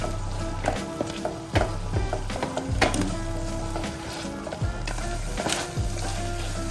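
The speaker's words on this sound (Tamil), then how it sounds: "ஆட் பண்ணி சிம்மில் வச்சுட்டு ஒரு 5 மினிட்ஸ் இதையும் சேர்த்து பாயில் பண்ணிக்கலாம்" Dried fruit simmering in juice in a pan on the stove for a plum cake, giving a steady low bubbling sizzle with occasional soft pops and scraping stirs, close and continuous with no talking.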